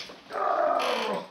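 A dog lets out a short, close, throaty growl with a whiny edge that swells and fades over about a second in a quiet indoor space.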